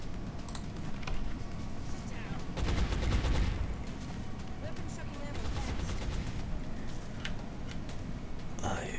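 Rapid sustained gunfire from the video game XCOM: Long War, a dense rattling fusillade with heavier bursts in the middle, loud and continuous, mixed with keyboard clicks.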